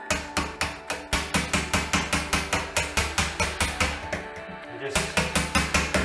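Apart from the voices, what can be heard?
chisel chipping old silicone caulk off a wall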